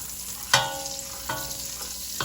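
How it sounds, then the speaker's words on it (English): Butter melts in a pot for a clam chowder roux, stirred with a wooden spoon: a soft, steady sizzle and hiss broken by a few sharp spoon knocks and scrapes against the pot. "I have some butter melting in here because I am about to do the roux for the clam chowder"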